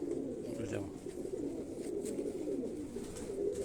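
A pigeon of a prized rooftop breed coos softly and continuously at close range, a low burbling sound with faint background noise.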